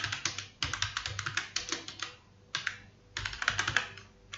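Typing on a computer keyboard: close, quick bursts of clattering keystrokes separated by short pauses, with no voice over them.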